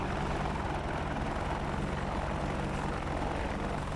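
A helicopter during a flight training demonstration approaching to hover and set down on a runway spot, its rotor and engine drone steady, loud and continuous throughout.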